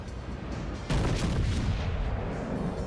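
Battleship guns firing in a naval combat video game, a deep muffled boom with rumbling blasts and rolling low thunder layered over continuous background noise, without talk.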